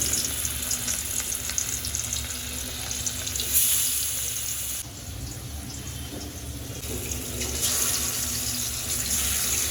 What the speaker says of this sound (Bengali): মাছ ভাজি তো প্রায় হয়েই গেল